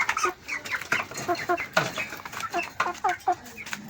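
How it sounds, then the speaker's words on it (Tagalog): Several chickens cluck busily and close by while feeding on lettuce, their short, overlapping calls coming in quick irregular bursts. "pinapakain ko lang sa manok"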